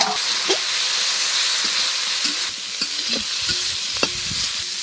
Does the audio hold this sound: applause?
no